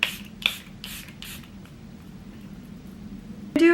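Charlotte Tilbury Airbrush Flawless Setting Spray misted onto a face in four quick, fairly soft bursts in a row, then a quiet pause and a brief clatter at the end.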